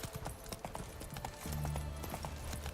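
Roach the horse's hooves clip-clop in a quick galloping rhythm in The Witcher 3, steady and close, with a heavier low rumble of game sound joining partway through.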